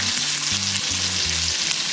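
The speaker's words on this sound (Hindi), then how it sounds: "सबसे पहले हम फ्राई करने के लिए कैप्सिकम, शिमला मिर्च क्यूब्स में कटी हुई और प्याज डालेंगे।" Cubed capsicum and onion frying in a pan: a loud, continuous close sizzle with steady crackle, alone and unbroken.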